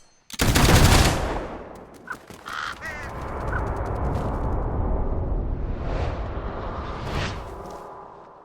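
A firing squad lets off a loud, sharp volley of gunfire in Fable III, a dense burst up close followed by scattered cracks and caws, then a long rumbling echo fading away.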